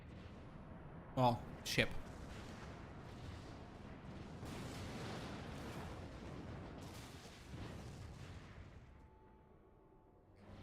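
Cannon fire in the Final Fantasy XIV video game, a pair of sharp booms near the start followed by a sustained rumbling roar of battle effects, with a voice talking over it.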